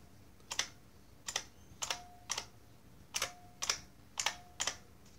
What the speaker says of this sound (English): lots of them start to ping like that, you kind of know it's time for a bolt mod